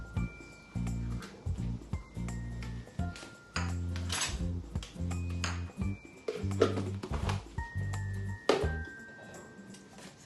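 Someone stirs food in a cooking pot with a utensil, giving irregular metallic clanks and knocks against the pan in short bursts and brief pauses.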